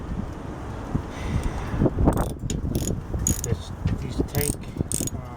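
Ratchet tightening the tank head bolts on a Yardman Snowbird snowblower outdoors, with quick repeated clicking strokes over steady wind noise and a brief spoken remark.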